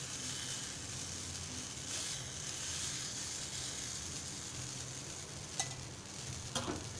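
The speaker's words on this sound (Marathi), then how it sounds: "मालपोह्याचं मिश्रण तव्यावर घालूया" Malpua batter sizzles in oil on a griddle, a soft steady hiss with a couple of faint utensil clinks, quiet and without talk.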